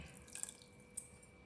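Soaking water from urad dal splashes softly into a wet grinder while batter for Ramassery idli is prepared, a faint trickle with a few light drips and splashes over a quiet steady hum.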